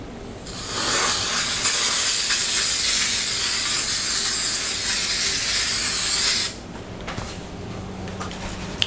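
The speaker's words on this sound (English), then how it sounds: "I'm just going to spray a little bit and see what happens." Citristrip paint stripper sprays onto painted wood in one steady, loud, close hiss lasting about six seconds, then cuts off, leaving a quiet room with faint small clicks.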